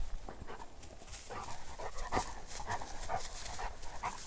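A chocolate Labrador retriever pants steadily during a dove hunt outdoors, rapid close breaths with a few faint whimpers mixed in, heard alone.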